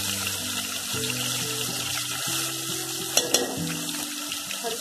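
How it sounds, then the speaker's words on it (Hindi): Ginger garlic paste sizzles in hot oil in a home kitchen, a steady moderate frying crackle with a couple of brief clinks and a low background hum, and no speech. "अब हमने ऑयल में अदरक लहसुन का पेस्ट डालना है।"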